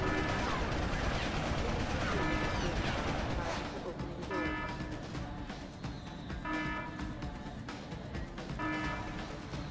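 Rapid gunfire rattles through a Deus Ex: Human Revolution firefight, repeated sharp shots and crashes in clustered bursts, loud at first and easing slightly later, with a voice speaking over the noise.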